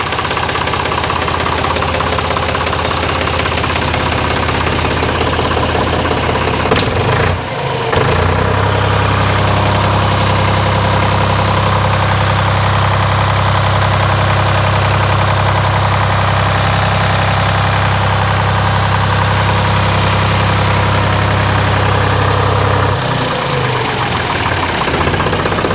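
A Deutz tractor engine idles out of gear with the parking brake on, a loud, steady, close diesel rumble with a rhythmic knocking clatter that briefly dips and resumes partway through, with no talking.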